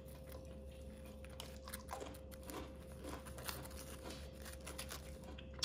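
Crisp, repeated crunching of someone chewing a dry Nilla vanilla wafer cookie up close, with steady low background hum and no talking.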